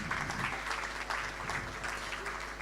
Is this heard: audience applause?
yes